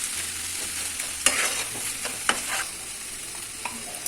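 Cabbage curry sizzles in a pan as it is stir-fried dry with no water, a steady hiss broken by a few sharp clinks of the spatula.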